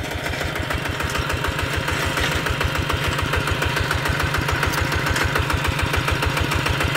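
A Kubota RT155 tractor engine idles steadily up close, a loud, even rhythmic chugging that holds unchanged throughout with no talk.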